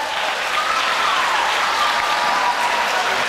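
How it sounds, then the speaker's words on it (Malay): Sustained applause from a large audience at a Maulidur Rasul religious celebration, steady and dense throughout with no talking over it. "boleh tepukan kepada kita semua"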